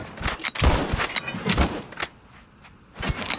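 Rapid cannon fire in the Sail VR sailing game, a quick run of loud booming blasts in the first two seconds, then a lull before another shot near the end.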